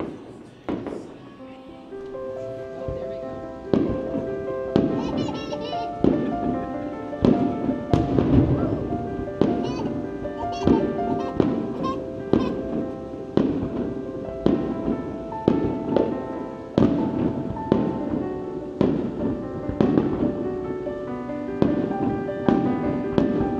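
Fireworks bursting at the Rampart Casino's 25th anniversary VIP celebration, a steady run of booms and crackles over more than twenty seconds, ringing out over a background hum of a crowd.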